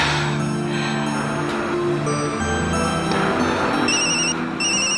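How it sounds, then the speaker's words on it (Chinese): A telephone rings with a repeating electronic tone pattern in an indoor scene, the ringing steady and clear over a quiet background, with no one speaking. "对不起，我接个电话。"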